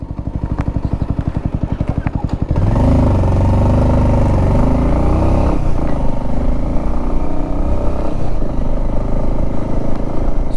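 Bajaj Avenger 220 cruiser motorcycle ridden on a mountain road between Damthang valley and Rabangla, Sikkim: an idling pulse gives way after about two seconds to a steady, loud engine drone with wind rumble, continuous and close.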